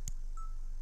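A phone being dialed in the survival game Survivor's Guilt gives a click and then a single short keypad beep over a low background hum, with no talking.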